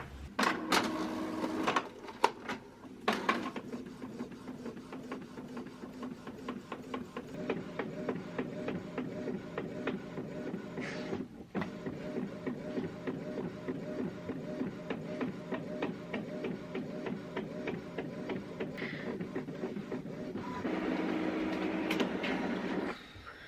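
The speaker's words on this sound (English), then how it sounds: "So I'm just going to print that" An inkjet printer runs a sublimation design print, its print head shuttling back and forth in a steady mechanical rhythm with whirring feed motors and periodic clicks, close and continuous with no talking.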